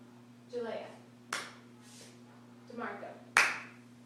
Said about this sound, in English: please give them 1 clap like this.